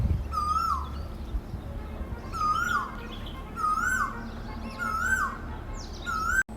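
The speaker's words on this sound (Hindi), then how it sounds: "यहाँ पे इतनी प्यारी कोयल बोल रही थी तो उसकी वॉइस भी मैंने रिकॉर्ड कर ली" An Asian koel calls during an evening walk in a Rajasthan village, giving about five clear, rising whistled calls at regular intervals over a constant outdoor background hum.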